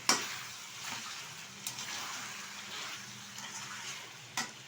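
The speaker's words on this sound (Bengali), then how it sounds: "এখন মাংসের সাথে আমি এটা মিশিয়ে নিচ্ছি" Fried potatoes being stirred into a country chicken curry in a pan, a soft steady sizzle with a few scraping clinks of the spoon against the pan, close and quiet.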